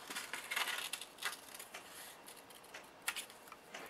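Scissors cutting a fabric heart shape for a bridal gown appliqué, a series of soft, crisp snips and rustles in an irregular rhythm, close and quiet, with no talking.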